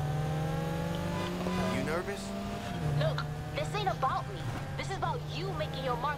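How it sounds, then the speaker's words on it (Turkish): A Nissan 350Z driving in the racing game Need for Speed Heat: a steady, droning engine tone that shifts pitch as it revs, heard throughout under overlapping talk. "350Z arabası."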